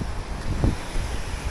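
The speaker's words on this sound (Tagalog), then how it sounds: "malakas-lakas yung hangin, tas maalon" Strong wind buffets the microphone at a fishing spot on a cloudy day with rough sea, a continuous loud rushing roar with gusty swells, no voices.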